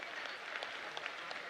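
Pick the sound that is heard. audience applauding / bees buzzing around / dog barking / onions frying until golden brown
audience applauding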